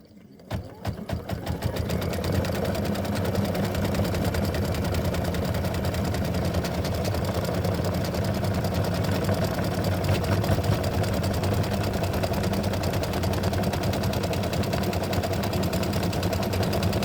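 An embroidery sewing machine stitches a spider design in a fast, even mechanical chatter that starts after a few sputtering stops and then runs close and continuous, with a voice heard briefly near the start.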